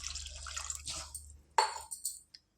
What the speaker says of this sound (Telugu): చేపలు ఉడకడానికి ఒక 1 గ్లాసు పావు లీటర్ వాటర్ పోసుకోవాలి